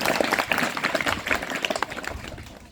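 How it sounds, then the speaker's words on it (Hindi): A small audience of scouts at a training session breaks into brisk, dense clapping for a boy who answered a question, the claps loud and close, thinning slightly toward the end. "इसके लिए ताली बजे।"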